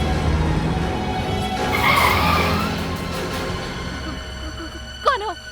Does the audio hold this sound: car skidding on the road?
yes